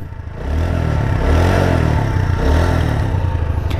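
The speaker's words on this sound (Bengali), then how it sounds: "So let's start the engine, Bismillah." A TVS Apache RTR 160 4V motorcycle engine starts and runs steadily close by, its loud, rough idle swelling slightly with a light rev.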